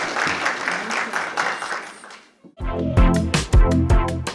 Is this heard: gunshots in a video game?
no